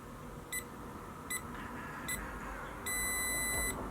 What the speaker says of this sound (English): let's wait for the beep